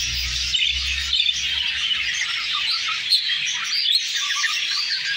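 Dense, continuous chirping and squawking from many small caged birds close by, agitated with a male and female cage side by side, a busy chatter with occasional louder calls and a low rumble early on.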